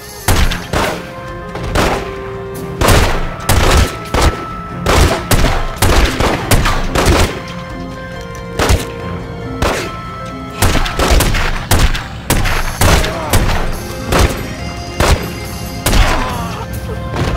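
Repeated bursts of video game gunfire from The Godfather, booming shots and rapid volleys, loud and close, coming in irregular clusters with brief pauses between.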